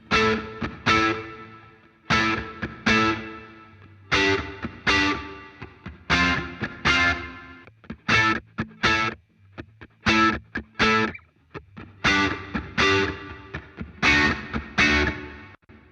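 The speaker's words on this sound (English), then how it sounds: "pick the electric guitar riff chorus preset as a starting point" A distorted electric guitar riff with a shimmering chorus effect, played in repeated rhythmic bursts with short gaps, loud and upfront with no voices.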